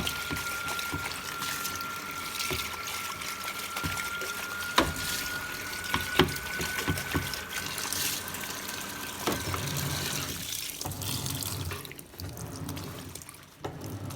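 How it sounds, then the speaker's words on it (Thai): Water runs steadily into a washing machine drum packed with a blanket, a continuous rushing trickle with occasional knocks and clicks, then the flow stops and quiets toward the end. "เครื่องปั่นไปสักพักก็จะทำการเติมน้ำเข้ามา"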